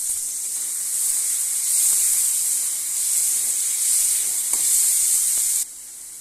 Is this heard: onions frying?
yes